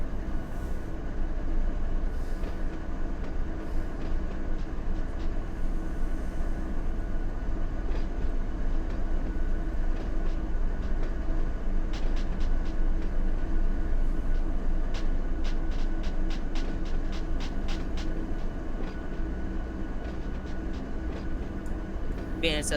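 A BNSF train pulling out in the Run 8 Train Simulator game, a steady low rumble of engine and rolling wagons lasting throughout, with faint clicks and rattles over it.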